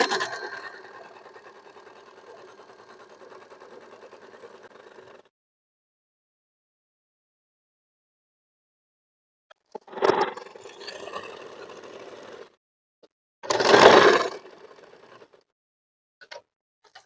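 A sewing machine stitches stretched elastic onto fabric, with a steady close whir for several seconds, then silence, then a few shorter bursts of stitching and handling noise.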